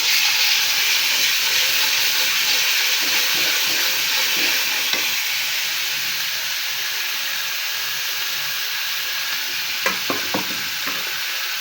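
Garlic, onion and cumin pastes fry in a pan for a dried taki fish curry, making a constant loud hiss with faint stirring scrapes and a few sharp clicks near the end.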